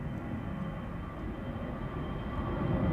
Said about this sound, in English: Spilling up in the distance is an EasyJet A320 destined for Bristol.